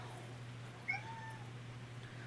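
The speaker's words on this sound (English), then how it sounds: "I should have locked the cat away somewhere." Indoors, a house cat gives a single short, faint meow against a steady low room hum, with no one speaking.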